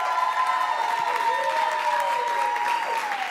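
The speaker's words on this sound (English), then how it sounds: "Give this wonderful group another round of applause." An audience claps for a dance group at a live Notre Dame Day event, the applause steady but partly covered by a sustained tonal sound with gliding pitches running through it.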